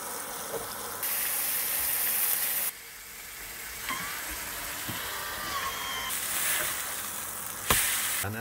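Meat frying in a hot pan inside a van on a snowy winter evening, a close crackling sizzle that swells and drops in bursts, with occasional clicks and knocks.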